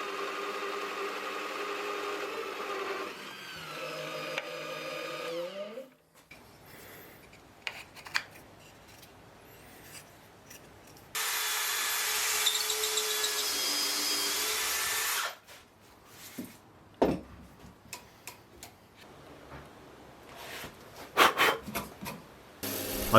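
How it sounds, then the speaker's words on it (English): A wood lathe turns a walking stick, with stretches of steady whirring and a scraping, hissing cut between quieter gaps and a few knocks and clatters, close and moderately loud. "I put the main body of the walking stick into the lathe and then just turned down the area for the brass section"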